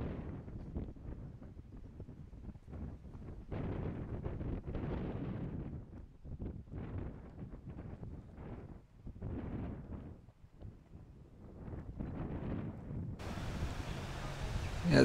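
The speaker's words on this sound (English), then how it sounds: "Certainly a bit windy today." Gusty wind buffets the microphone in uneven rumbling bursts, rising and falling throughout.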